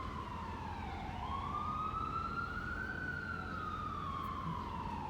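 Emergency vehicle siren wailing steadily over low traffic rumble, its pitch sweeping slowly up and then down in a long cycle, fairly distant and continuous throughout.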